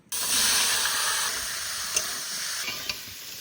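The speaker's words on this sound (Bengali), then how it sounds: "মাছ ভাজার তেলে ফুলকপি ভেজে নেব।" Cauliflower pieces frying in leftover fish-frying oil, a steady loud sizzle starting abruptly and holding throughout, with a couple of brief clicks from stirring near the end.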